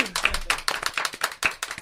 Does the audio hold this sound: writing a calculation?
no